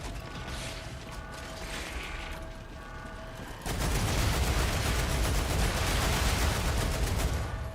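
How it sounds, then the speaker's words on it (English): A weapon magazine change in the sci-fi shooter StarRupture, heard as a few mechanical clicks and ratchets under faint background noise, followed by a loud burst of steady gunfire and machinery. "Changing mags."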